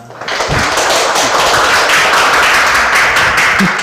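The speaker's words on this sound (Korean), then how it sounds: "너무 짧은 시간 내에 많은 정보를 열정을 다해서 강의해 주신 그 열정에 감사의 박수 좀 먼저" A lecture audience applauds a professor at a municipal urban regeneration course in Uiwang, a dense, steady wash of many hands clapping that fills the room from start to finish with no talk over it.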